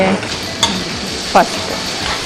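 Onions frying in a pan with salt, a loud close sizzle with a couple of brief clinks and scrapes of a spoon.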